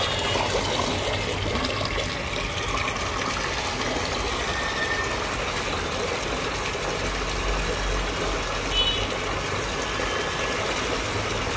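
A KSB Aqua Smarty half-horsepower domestic water pump runs and pushes water, giving a continuous loud rushing flow with steady mechanical hum underneath, without speech.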